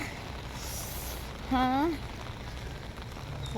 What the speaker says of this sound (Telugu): చూడండి వాన వాన పడుతుంది పడుతుంది